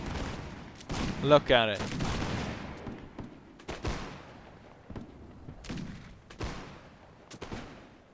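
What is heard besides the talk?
musket gunfire exchanged in battle, from video game Mount & Blade Warband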